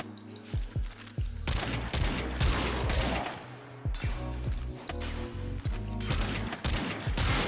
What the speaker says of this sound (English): And Euphona Prime's secondary attack, which happens to be a shotgun.